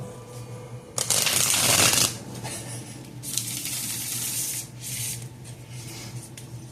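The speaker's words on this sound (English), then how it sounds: "we're gonna jump into the Lightseers deck here. Give her a couple shuffles here." A Lightseers tarot deck is shuffled in a loud riffling burst lasting about a second, followed by softer bursts of card rubbing and sliding nearby, with no talking.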